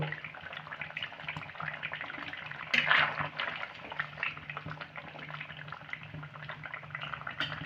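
A pot of cucumber shukto with fried lentil fritters simmers quietly, a faint bubbling hiss with soft liquid gurgles and a brief louder burst partway through.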